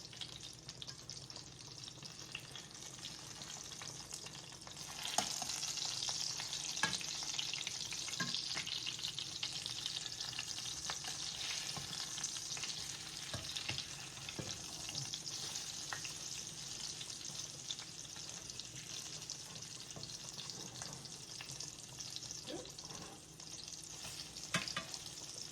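Salisbury steak patties fry in a pan, a steady close sizzle that holds for the whole stretch, with occasional clinks and scrapes as they are turned.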